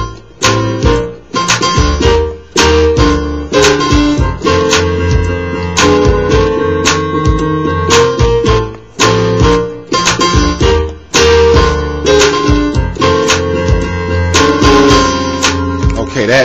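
Gospel song playing as a loud full-band recording, with punchy rhythmic hits, bass and keys driving continuously throughout.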